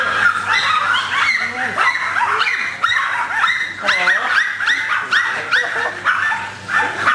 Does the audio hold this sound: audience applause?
no